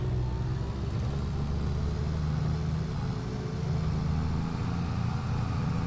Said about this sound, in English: I actually like this tractor.